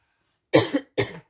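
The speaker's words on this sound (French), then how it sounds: "C'est pour ça que je vous tousse dessus." Two short, harsh coughs in quick succession, close by, with silence before them.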